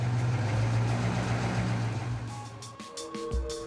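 A 1950s Chrysler C300 with a 5.4-liter V8 rated at 300 horsepower idles steadily, a low, dense rumble that holds for most of the stretch before easing toward the end.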